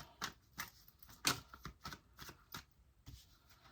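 Tarot cards being shuffled by hand, a series of quick soft riffling flutters and taps in an uneven rhythm, close and quiet with no talk.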